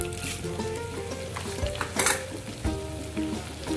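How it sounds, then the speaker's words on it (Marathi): Edible gum (dink) frying in hot ghee, a dense bubbling sizzle that crackles and pops steadily, with a few louder bursts and faint clinks of a utensil. "आपण ह्याच्यामध्ये थोडं थोडं करून डिंक टाकून घेऊया आणि तळून घेऊया।"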